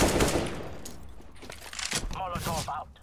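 Rapid bursts of gunfire ring out in an online shooter game, a quick clatter of shots at the start and again near the end, mixed with players talking excitedly.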